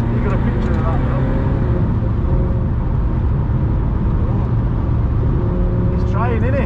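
Car drifting on the Donington Park race track during a track day, with loud continuous engine drone and tire noise, a brief squeal near the end, while people talk over it.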